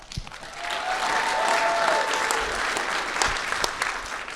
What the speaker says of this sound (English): please give another round of applause for everyone and all their hard work into the show